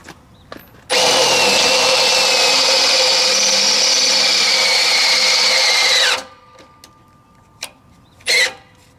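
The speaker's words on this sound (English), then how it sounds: "11/32 drill bit for self-tapping bolts. So let's do it." Power drill with an 11/32 bit boring a hole for self-tapping bolts in a travel-trailer rear bumper bracket: one loud, steady whine lasting about five seconds that then winds down, with a few faint clicks and knocks around it.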